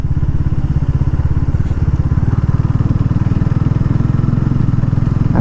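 Motorcycle cruising at speed on an open road, its engine a loud, steady, throbbing drone with rapid even pulsing and rushing wind noise throughout, heard close up and without talk.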